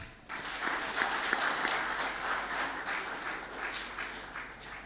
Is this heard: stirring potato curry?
no